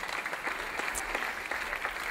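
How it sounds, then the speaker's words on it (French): An audience at a comedy magic show claps for a volunteer, a short burst of steady, fairly soft applause from a crowd in a room. "Vous pouvez l'applaudir très fort, voici ma 2e volontaire."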